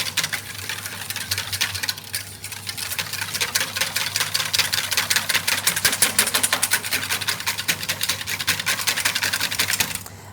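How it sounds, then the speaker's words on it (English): Egg mixture with cinnamon for French toast is whisked fast in a bowl, giving a loud, continuous rapid rattling clatter that runs unbroken throughout. "use a whisk and just go a bit faster all around."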